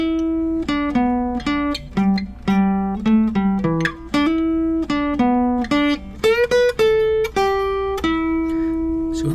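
Electric guitar phrase from a Voodoo Child lesson, a run of picked notes with a string bend leading into repeated higher notes, clear and close, played alone without talking.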